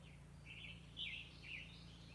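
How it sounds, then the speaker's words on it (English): Birds sing outdoors in a garden with palms and bamboo, faint repeated high chirps and short warbling phrases over a low steady background hum, heard at a distance with no talk. "And if you can hear the birds, I'll shut my mouth for a minute"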